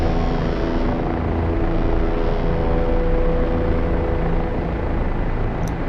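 A Kiowa military helicopter in a combat flight simulator, flying fast at about 103 knots, with a loud, steady rotor and engine roar that continues unbroken throughout.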